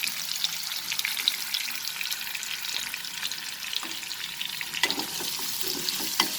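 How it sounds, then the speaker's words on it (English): Raw papaya pieces fry over a medium flame, giving a continuous loud hissing sizzle with occasional light stirring clatter and small pops, and no voices. "And we will fry these papayas over a medium flame."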